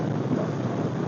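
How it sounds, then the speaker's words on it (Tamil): Heavy rain pours down steadily during a motorbike ride through hilly country on the way from Kerala to Tamil Nadu, a dense, loud, unbroken hiss with a low rumble beneath, and no voices. "கேரளாவில் வந்துட்டு மழை, பயங்கரமான மழை"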